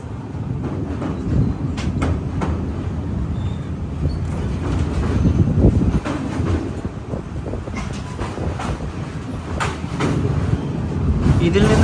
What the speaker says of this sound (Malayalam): ട്രെയിൻ അങ്ങനെ കർണാടകയിലേക്ക് കയറിയിരിക്കുകയാണ്.